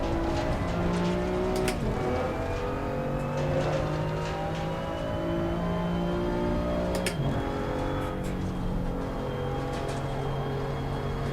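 A German GT4 race car engine in Assetto Corsa Competizione drones steadily through a hill climb, its pitch rising and falling as it labours and shifts gears, loud and continuous with no talk.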